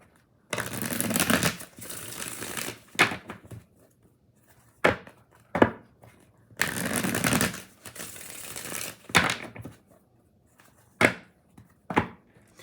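Tarot cards shuffled in close bursts: two long riffling rushes broken by sharp single taps and slaps of the deck, near and fairly loud, with no voice.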